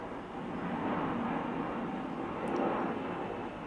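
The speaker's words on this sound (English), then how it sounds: "there are so many planes going today" An airplane flies overhead, a continuous broad engine roar that swells slightly and holds steady, moderately loud with no voices.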